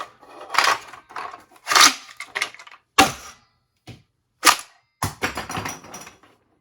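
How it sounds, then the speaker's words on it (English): A 3D-printed Breacher blaster fires mega darts in a series of sharp, close snapping shots with short gaps between them. "can also shoot these mega darts"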